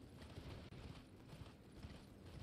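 Horse hooves clopping steadily as a rider gallops across terrain in the Elden Ring video game, a fast, even rhythm of soft thuds under a dense game soundscape.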